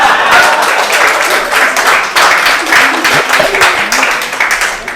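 An audience at a poetry and ghazal recital breaks into loud, sustained applause, many hands clapping close and dense with slight swells and no speech over it.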